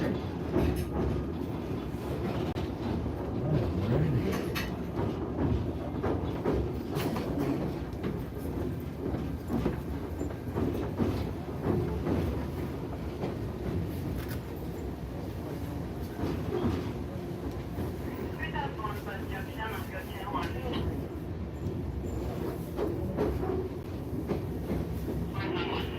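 The White Pass scenic railway train rolls out of Skagway, Alaska, a steady low rumble and rattle of wheels on rails heard from inside the car, with faint murmuring voices in the background.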